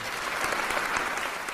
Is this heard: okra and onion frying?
no